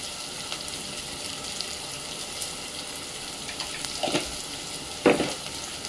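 Masala spices fry in a pan for shimplyachi aamti, a mussel curry, giving a low, steady sizzle broken by a couple of sharp stirring clinks near the end.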